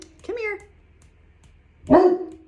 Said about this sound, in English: Come here and stop barking.